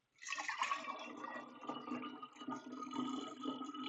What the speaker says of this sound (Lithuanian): Nors nežinau, ar čia susimaišysiu tiek daug cukraus, tai tebūnie įpilkime dal vandens.